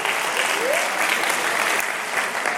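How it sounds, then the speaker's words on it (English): Steady audience applause fills a stand-up comedy show, a dense, even wash of clapping at close range from start to finish. "give this young lady a round of applause."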